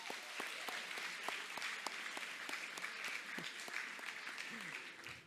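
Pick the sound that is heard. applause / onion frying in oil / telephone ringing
applause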